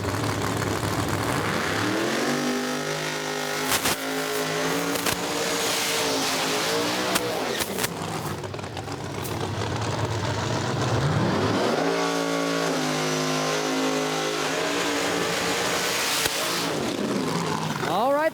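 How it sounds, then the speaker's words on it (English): Drag race cars at a no-prep event at Alabama International Dragway roar through burnouts, their engines revving hard in rising and falling sweeps, while an announcer talks over the noise. "next pair just finished up the burnouts over in the right lane"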